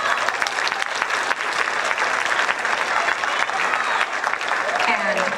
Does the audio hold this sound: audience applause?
yes